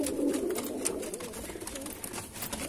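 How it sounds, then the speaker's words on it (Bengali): Kalanka Madrasi pigeons cooing in a loft, soft repeated low coos from several birds close by, with faint rustling and no talking. "সব কালাঙ্কা পায়রা"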